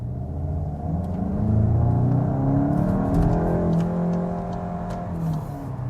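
A new Volkswagen Golf GTI accelerating hard in sports mode on a German autobahn, its engine rising in pitch with a loud, close, steady rumble and whir as it gains speed, no one speaking.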